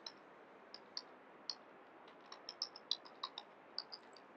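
Light keystrokes on a computer keyboard in a quiet room, about a dozen soft, irregular clicks spread over a few seconds.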